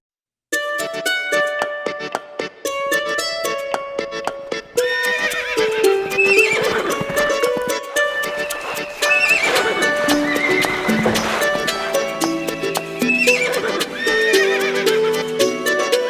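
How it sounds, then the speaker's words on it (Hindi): Cartoon-style horse sounds, a neighing whinny and rhythmic clip-clopping hooves, play loudly over bright, continuous children's rhyme music. "एक छबीला घोड़ा था, एक छबीली घोड़ी थी"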